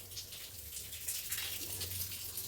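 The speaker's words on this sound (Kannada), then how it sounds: "ನೀರು ಸುಮ್ಮ ಬರುತ್ತೆ" Water splashes and trickles unevenly at a moderate distance in a village, a light bubbling flow over a low background hum.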